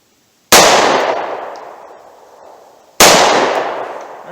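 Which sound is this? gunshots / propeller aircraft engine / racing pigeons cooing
gunshots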